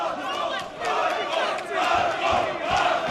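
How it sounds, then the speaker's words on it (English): A Croatian crowd at a fight night in Melbourne roars and chants in rolling waves, a dense, fairly distant wall of voices swelling and dipping throughout. "Croatian crowd really getting behind him."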